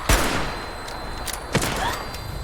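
Gunfire in Fallout 76 comes as a few sharp, loud shots, one at the start and another about a second and a half later, over a dense rumble of game noise.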